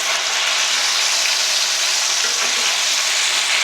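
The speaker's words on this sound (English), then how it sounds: "I want to get some good browning." Beef chuck pieces brown in hot oil in a pan, giving a loud, dense, unbroken sizzle up close throughout, with nothing else heard.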